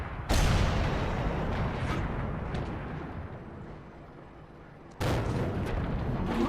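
T71 light tank firing its gun in the video game World of Tanks, a heavy boom with a long rumbling decay, followed by a second shot near the end.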